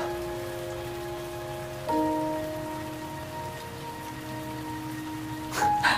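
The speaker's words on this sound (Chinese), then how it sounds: "怎么突然下雨了？" A sudden rain shower hisses evenly and continuously, half-masked by soft held musical notes, with a brief brighter splash toward the close.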